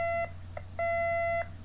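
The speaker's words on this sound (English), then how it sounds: "Each operator is holding a metal detector wand. Watch as they begin to wand each other." Handheld metal detector wands sound electronic tones: a steady beep, a brief blip, then a longer sustained beep, loud and close over a low background hum.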